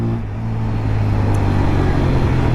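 A TVS Apache RTR 160 4V motorcycle starts off and accelerates through first, second and third gears. The engine note climbs loud and close, with steady rising revs and brief dips at each gear change.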